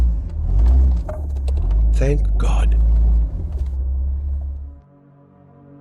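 A car engine rumbles loudly at idle while frightened voices speak over it, then the low drone drops away sharply near the end, leaving quiet.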